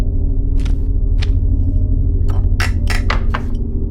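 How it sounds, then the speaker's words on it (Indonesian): Repeated hammer strikes breaking something open in the horror video game Madison, a series of sharp metallic, glassy impacts that quicken toward the end over a steady low background hum. "Akhirnya kita butuh palu."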